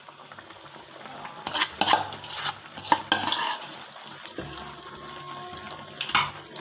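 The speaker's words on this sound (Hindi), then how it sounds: "अब हम दूसरी जो मूंगफली थी वो भी हम फ्राई कर लेते हैं।" Peanuts fry in oil with an uneven sizzle and hiss, broken by repeated stirring scrapes and clatter as they are kept separated in the pan. No one speaks.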